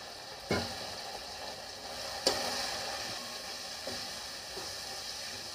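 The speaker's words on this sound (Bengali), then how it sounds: "মশলাটা কষিয়ে নিচ্ছি আমি।" Chopped tomato and spices sizzle steadily in a pan, with a few sharp scrapes and clicks as the mixture is stirred; no voices.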